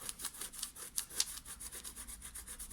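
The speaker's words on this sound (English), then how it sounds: "you can either use a rubber or I've always preferred my finger, and gently rub." A fingertip gently rubbing dried masking fluid off watercolour paper, a faint, steady run of soft rapid scratchy strokes, close and quiet with no voice.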